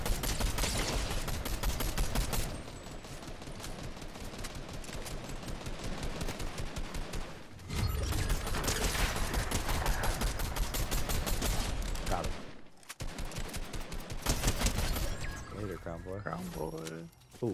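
Gunfire in the video game Fortnite, with a sniper rifle among the shots: dense, rapid bursts keep firing almost without pause and stop briefly a few times, loud and close, while players talk over it.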